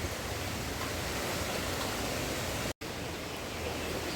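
Rain falling in Haridwar, a dense, even hiss of steady downpour filling the whole clip, cut by one very short dropout near the end, with no speech.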